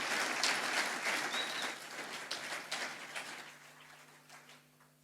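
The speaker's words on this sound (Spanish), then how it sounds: "Si le va a aplaudir, hágalo con fuerza," A congregation claps vigorously at a church revival night, a dense wash of hand claps that starts strong and gradually thins and fades toward the end, with no talking.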